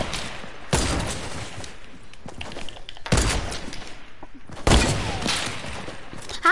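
Three loud sniper rifle shots in Fortnite ring out about every two seconds, each a sharp crack followed by a long decaying tail, with faint clicks between.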